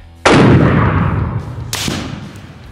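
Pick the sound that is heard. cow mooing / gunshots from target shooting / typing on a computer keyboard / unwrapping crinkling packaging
gunshots from target shooting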